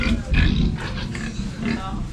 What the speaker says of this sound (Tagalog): Dami pa ng baboy dito